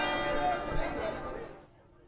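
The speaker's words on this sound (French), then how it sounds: "Dernier coup de cloche avant les grands travaux de rénovation." Church bells from the nineteenth century ring out in a resonant, sustained wash with a strong low hum, fading away over about two seconds.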